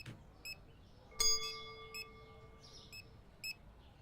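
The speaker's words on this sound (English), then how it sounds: "It's a self-checkout." In the Supermarket Simulator video game, a self-checkout gives short electronic beeps spaced about half a second apart, with one longer ringing chime partway through, crisp and alone against a quiet background.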